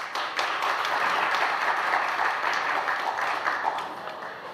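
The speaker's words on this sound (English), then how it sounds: "If you give him a round of applause, Reuven." An audience at a panel discussion on building wealth claps steadily in a dense, even round of applause that lasts a few seconds and then fades slightly.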